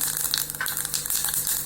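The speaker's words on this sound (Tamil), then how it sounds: "இப்போ கடுகு வெடிச்சிருச்சுங்க." Mustard seeds splutter and crackle in hot oil in a pan, a close, dense sizzling with rapid small pops throughout.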